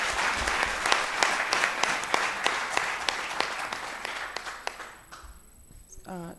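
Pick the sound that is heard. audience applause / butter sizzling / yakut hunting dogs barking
audience applause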